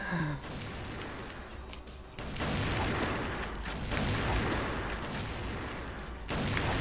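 Gunfire echoes through a CrossFire online shooter match, with several sharp booming sniper shots standing out over a dense, continuous layer of game noise.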